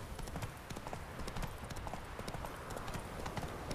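Horse hooves clip-clop steadily in The Witcher 3 on PS4, a continuous quick rhythm of hoofbeats at moderate level with no talk over them.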